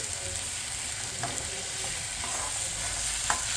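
Poppy seed and coconut mixture frying in oil, a soft continuous sizzle with occasional light scrapes of stirring, fairly quiet and close, no talking.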